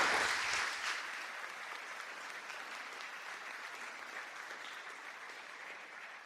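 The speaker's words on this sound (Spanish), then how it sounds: "Denle un aplauso al Señor." Church congregation applauding during a Spanish-language sermon, a dense, steady wash of clapping that starts strongest and tapers slightly over several seconds, with no voices over it.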